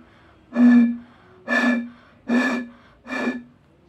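Blowing across the fifth water-filled bottle in a simple bottle-instrument experiment gives four evenly spaced breathy hoots, each a short pitched tone, close and clear with nothing else heard.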